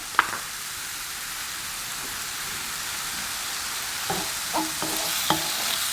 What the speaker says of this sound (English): So just keep the heat high. And stir them quick.